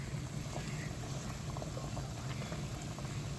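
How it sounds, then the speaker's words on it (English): Vegetable broth at a rolling boil in a soup pot, a close, constant low bubbling and churning that holds steady throughout with no voices. "It is now boiling."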